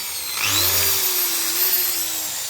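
A power drill whirs steadily at close range, its high motor whine holding for a couple of seconds over a constant background hum.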